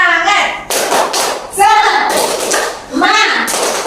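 An elementary school class claps a rhythmic cheer in sharp, loud bursts of slaps, mixed with children's chanting voices and a teacher speaking.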